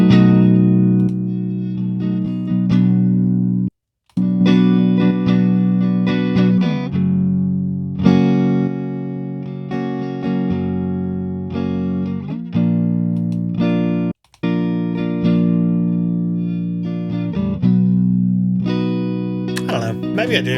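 An electric guitar runs through the distortion channel of a Rivera Knucklehead Reverb tube amp fitted with JJ KT77 power tubes, playing loud, crunchy sustained chords and riffs broken by a few brief silent gaps.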